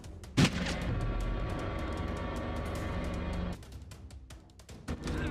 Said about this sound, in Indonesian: Hingga satu kesempatan Hans menembak Tom.